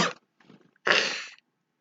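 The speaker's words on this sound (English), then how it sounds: "I've been holding in that cough a lot." A person coughs twice, a short burst followed by a louder, longer harsh cough, close and clear with a quiet gap between them.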